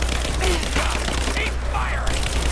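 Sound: covering gunfire in the video game Rise of the Tomb Raider

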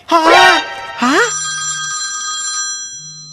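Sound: telephone ringing

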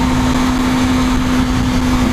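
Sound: Kawasaki ZX-25R motorcycle engine revving above 8000 RPM

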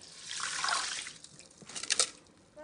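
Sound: water poured into a pan of rice

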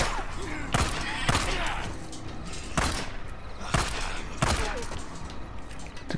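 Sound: pistol shots in the video game Days Gone

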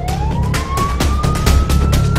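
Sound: ambulance siren

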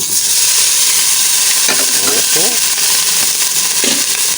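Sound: chicken frying in hot pan

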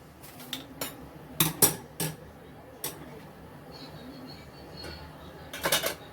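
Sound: green moong dhokla being taken out into a vessel

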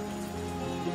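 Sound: rain falling

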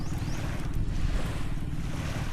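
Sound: sea beach with cool wind

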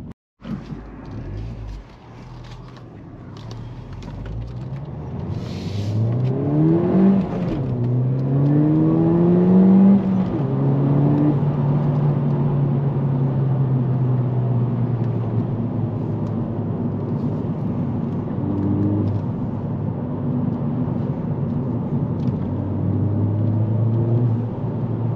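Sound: Ford Fiesta ST200 engine and turbo while driving

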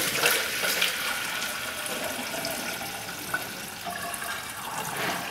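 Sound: coolant being poured into Subaru engine cooling system

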